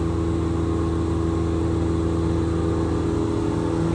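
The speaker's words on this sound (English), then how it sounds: "Got the spindle running right now." A 2005 Haas Super Speed VF4 APC vertical machining center with its spindle spinning at about 6,000 RPM after warm-up gives a steady, loud, continuous mechanical whine and hum with layered tones that hold unchanged throughout.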